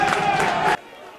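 Home supporters roar together to celebrate a goal at a Promozione Romagna amateur football match, Vis Novafeltria against Bellaria. The cheering is loud and dense for under a second, then cuts off abruptly to near silence.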